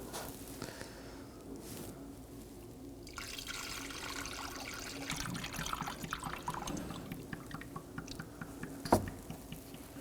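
Old coolant poured through a funnel into the coolant reservoir of a 2018-2024 Chevrolet Equinox 1.5L, a soft close trickle and gurgle of liquid running steadily, with one sharper knock near the end.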